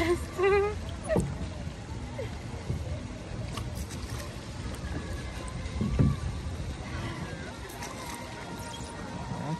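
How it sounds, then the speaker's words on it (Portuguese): Oars dip and splash as someone rows a small rowboat on a pond in Madrid, with irregular strokes, gentle sloshing and gurgling water, and occasional voices nearby. "tô remando aqui o barquinho"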